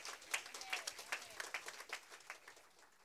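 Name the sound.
congregation applause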